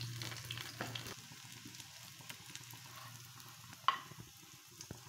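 Cauliflower pakoras frying in oil, a soft steady sizzle with faint clinks as pieces are lifted out one by one, quiet and close.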